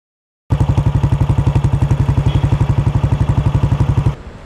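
A Royal Enfield Bullet motorcycle engine thumps steadily and loudly close by, a fast, even chain of low pulses that runs for about four seconds before dropping off abruptly near the end.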